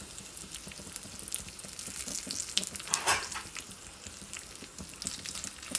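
Curry leaves, two chillies and a pinch of asafoetida frying in hot oil for a temple-style kootu, giving a steady close crackling sizzle with small sharp pops throughout.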